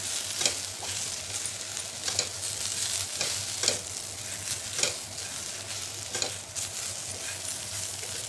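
Brinjal stuffed with masala sautéing in a pan, a close, steady sizzle broken by regular scraping strokes of a spoon roughly every second, with no voices.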